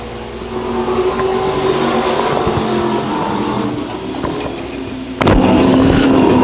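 Stock cars race at the Lakeside Grand Nationals, their engines roaring together down the back straightaway. The loud, continuous roar swells sharply near the end as a car passes close.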